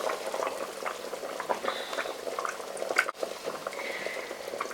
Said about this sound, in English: So 5 minutes boiling, which I think is enough.